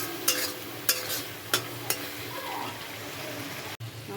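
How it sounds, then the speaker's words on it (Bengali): A spice paste with chili powder is stirred and sautéed in a pan, giving a low sizzle under several sharp scraping taps of the spoon, close and moderately quiet, with no talk. "এখন এটাকে ভালো করে আমি কষিয়ে নেব"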